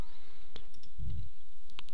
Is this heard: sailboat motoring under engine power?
no